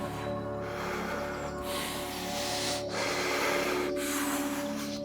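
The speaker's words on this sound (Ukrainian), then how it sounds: "Просто продовжуйте робити повний вдих, повний вдих, повний вдих, повний вдих." Deep, full breaths drawn in and pushed out during a Wim Hof style breathing exercise, close and airy, repeating in steady rhythmic cycles of a second or two with short pauses between.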